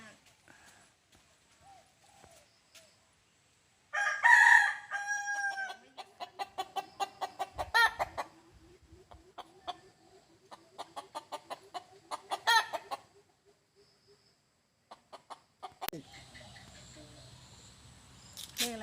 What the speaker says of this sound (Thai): โอ้โหไก่ขันนะฮะเรามาดูไก่ขัน